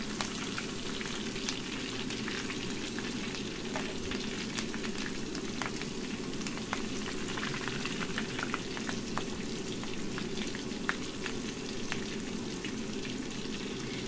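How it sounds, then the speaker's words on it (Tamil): Steady, dense sizzling and crackling of chicken pakoda deep frying in hot oil, continuous and close, with no voices. "இது மாதிரி எண்ணெயில் பொரிச்சு எடுத்து"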